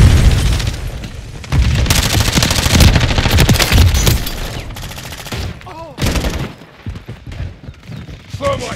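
Video game gunfire in a rapid, dense fusillade of shots and bursts, loud and close, running nearly throughout with radio-style voice callouts mixed in.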